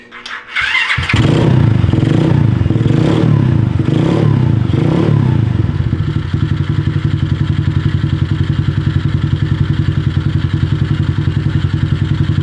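A pit bike engine is cranked and catches after about a second, revving in several rising surges before settling into a steady, loud, rapid idle with a regular chugging pulse.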